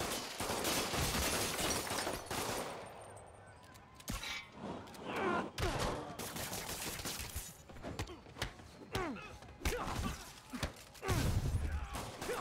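Gunfire rattles through a Spider-Man (2018) game fight, with dense rapid volleys and scattered sharp cracks, loud and continuous, mixed with impacts and scuffling.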